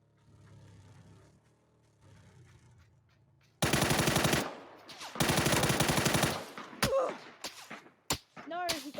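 MK14 rifle gunfire in a video game breaks a quiet ambient lull with two loud rapid bursts, then three separate single cracks spaced apart, with no talking.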